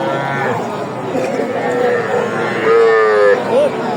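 Several cattle, including young bulls and heifer calves, moo loudly at an outdoor livestock market in Raniganj, Dinajpur, with long low calls overlapping amid crowd murmur and background chatter.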